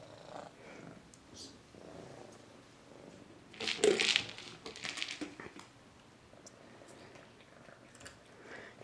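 A soft, quiet purring from a cat, swelling briefly into a louder rumble and rustle midway before settling back to a faint hum.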